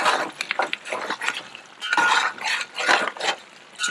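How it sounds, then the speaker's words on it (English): A spoon scrapes and stirs thick curry against the bottom of a pot in irregular bursts, close and fairly loud, with clinks of utensil on metal. "I'm sorry for the scraping there, but I need to get to the bottom of this, literally"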